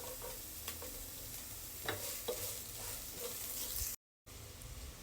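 Garlic sautés in hot oil in a pan for pork binagoongan, giving a quiet, steady sizzle with a few scattered crackles and a brief gap near the end.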